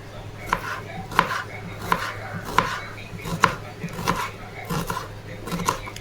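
Onion diced into small pieces with a knife on a board, about nine firm, evenly spaced chops close by, with a voice faintly present.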